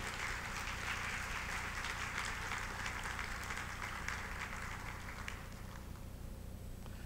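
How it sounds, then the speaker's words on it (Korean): A crowd at a bank's inauguration ceremony in Vietnam claps steadily for several seconds, the applause thinning and fading out near the end. "이해됐으면 박수 한번 쳐주세요"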